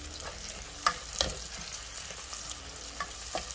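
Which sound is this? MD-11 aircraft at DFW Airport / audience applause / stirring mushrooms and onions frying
stirring mushrooms and onions frying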